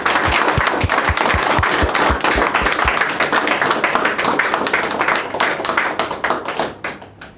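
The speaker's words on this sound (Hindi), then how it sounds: "तालियां बजाकर एक बार ज़बरदस्त इनका स्वागत किया जाए।" Audience applause welcoming guests at a DMIT and midbrain activation workshop, dense sustained clapping from many hands that stays full for several seconds before tapering off at the end.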